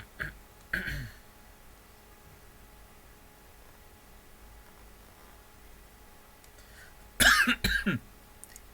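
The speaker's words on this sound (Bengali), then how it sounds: "কাশিটা প্রচণ্ড জ্বালাচ্ছে।" A teacher in a practice class coughs, with a short burst near the start and a harsher cluster of coughs near the end, separated by a long stretch of quiet room tone.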